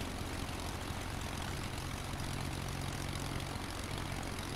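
A small propeller airplane's engine drones steadily on landing approach with flaps fully extended and wheels down, a loud, constant hum and buzz heard close from the cockpit, without any speech.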